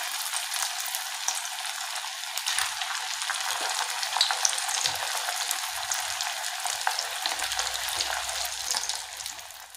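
Sabudana fries deep-frying in hot oil, a steady, moderately quiet bubbling sizzle with tiny crackles throughout and no talking.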